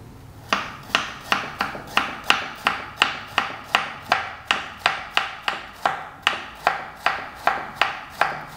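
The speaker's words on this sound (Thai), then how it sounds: "ซอยมะระเป็นชิ้นบางๆนะครับ" A knife slices bitter gourd thinly on a board, close up, in a steady run of about two dozen crisp, evenly spaced chops at roughly three per second. No one speaks.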